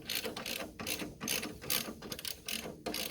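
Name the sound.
ratchet wrench on 15 mm bolt, bottom shock mount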